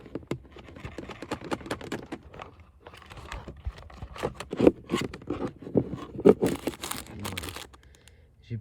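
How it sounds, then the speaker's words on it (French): A cable puller drags two taped-together USB plugs through the dashboard of an Audi A1, giving irregular scraping, rustling and clicking close by, with a few louder knocks. "J'ai scotché les deux prises USB et je tire."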